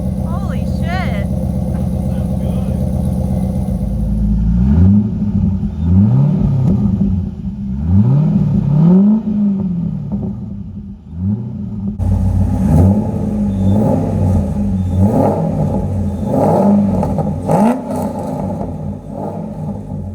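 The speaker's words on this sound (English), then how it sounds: "a long tube header setup and an X pipe transforms the sound of a V8, an LS and a Corvette especially" Corvette Z06 with an LS V8, long tube headers and an X pipe, revving hard in repeated rising and falling bursts, loud and close, first from a steady idle, then with sharper blips and crackle.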